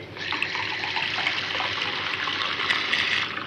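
Water is poured into a glass in a steady, close stream lasting a few seconds, alone without talk.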